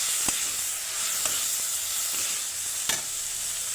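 Ridge gourd sizzles steadily in a pan with dry spices, onion-garlic masala, salt and turmeric, a constant frying hiss broken by a few sharp ticks of a spoon stirring, close and with no voices.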